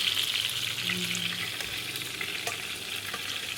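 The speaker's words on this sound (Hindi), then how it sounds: "एकदम गोल्डन सा ये फ्राई हो चुका है" Tandoori chicken sizzles and fries in a pan on the stove until golden, a steady close crackling hiss with faint stirring, no talk.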